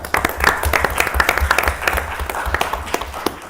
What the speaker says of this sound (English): So let's give Councilman Stacy a round of applause.